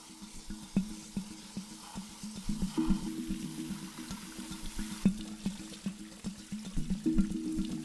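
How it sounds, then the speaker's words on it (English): Water pours steadily into a newly built tropical aquarium tank, a continuous splashing and gurgling stream with small irregular bursts, heard alone and fairly quiet. "So now it's time to fill up the tank."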